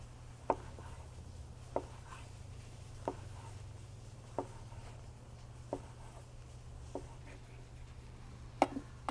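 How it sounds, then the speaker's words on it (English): A knife slicing mushrooms very thin on a cutting board next to a charcoal and red oak fire, sparse soft chops about once a second over a steady low hum. "I'm going to flip them over and we're going to cut these very thin."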